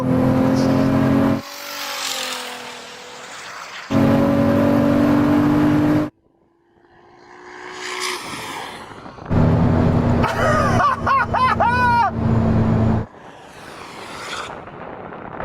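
A Ferrari SF90 accelerates hard up close, its engine rising in loud surges broken by abrupt cuts and dips at gear changes, with a rising whine between bursts.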